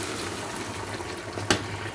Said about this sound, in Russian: И эта жидкость с картофеля, там вкус лука, придаст нашему салату именно ту консистенцию.